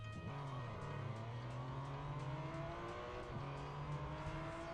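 Race car in a racing video game running on an Nvidia Shield TV, its engine revving hard and steadily with gear shifts audible as pitch drops, loud and continuous over background game music, no speech.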